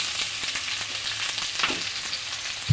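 Sliced okra (ladies finger) with turmeric and salt fries in oil, giving a close, continuous crackling sizzle with no one speaking.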